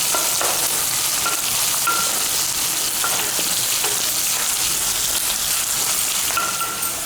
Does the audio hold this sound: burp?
no